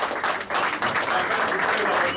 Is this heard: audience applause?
yes